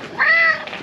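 A single drawn-out cat meow, close and fairly loud, with a rising then falling tone and a softer trailing bit afterward.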